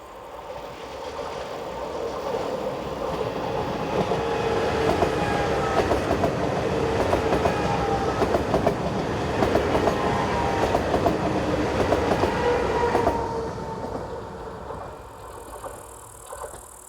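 A passenger train, the 0710 service from Prague to Košice, runs along the Tatra mountain route in Slovakia, its rumble and wheel clatter swelling as it draws near, holding loud and steady, then trailing off as it moves away.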